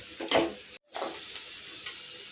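Onions and slit green chillies sizzle and fry in a pan while being stirred for a meal maker gravy, with a steady close hiss, a few louder spatters and a brief gap near the start.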